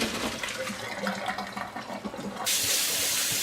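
Water gushes and splashes steadily, then a louder rushing pour takes over as boiled bamboo shoots and their water are tipped into a strainer over a sink.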